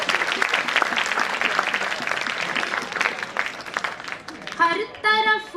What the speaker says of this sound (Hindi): मैं चाहती हूँ एक बार आप तालियाँ बजा दें।